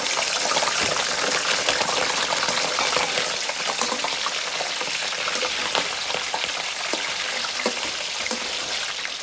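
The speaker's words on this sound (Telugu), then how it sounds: "వీటిని ఇప్పుడు మనం నూనెలో మంచి డీప్ ఫ్రై అయితే చేసుకుందాం" Fish pieces deep frying in hot oil make a loud, continuous, close sizzle with dense crackling and small pops throughout.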